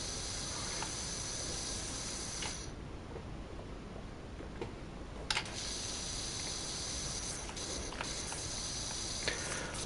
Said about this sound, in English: Does anybody else hear like the little like that little goopy noise?